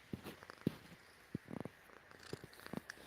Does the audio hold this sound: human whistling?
no